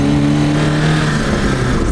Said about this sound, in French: Là, avec le petit échappement, ça fait quand même un petit bruit sympa.